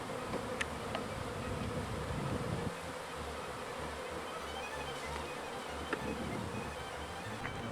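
Honeybees fan and buzz at the entrance of a hive in a continuous, dense hum of wings with a few individual bees passing closer, a moderately quiet swarm drone without speech.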